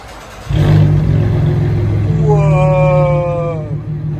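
Inside the cabin of a Cadillac CTS 3.6L V6 with modified exhaust, a deep droning rev swells and holds with a rising whine, loud and close, a voice faintly audible beneath it.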